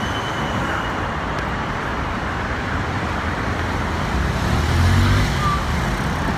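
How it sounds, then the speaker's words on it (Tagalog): An oncoming vehicle passes on a road, its sound swelling briefly near the end above a steady wash of nearby traffic noise. "Eh ayoko ng salubong na sasakyan katulad niyan oh."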